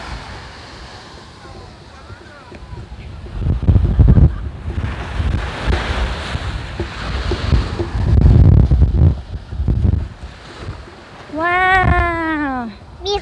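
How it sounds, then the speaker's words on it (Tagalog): Wind buffets the microphone while ocean waves surge at Kenting beach, loud swells rising and falling with gusts, and people speak intermittently over the noise. "Ah, beach."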